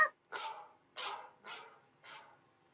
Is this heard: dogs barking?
yes